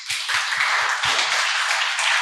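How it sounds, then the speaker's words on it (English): Audience applause at a talk, a steady wash of many hands clapping, with a few distinct near claps up front at the start, sustained and fairly loud with no voices. "Give him an applause."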